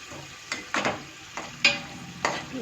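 Chicken dum biryani ingredients with chilli powder, turmeric, salt and homemade biryani masala fry lightly in oil under a soft hiss, broken by five or six short scraping bursts of stirring.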